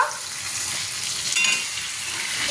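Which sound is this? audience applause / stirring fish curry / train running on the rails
stirring fish curry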